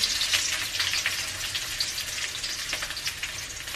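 Garlic and onion sizzle hard in a hot pan of oil, a dense, steady crackle of frying with small popping bursts. No one speaks over it.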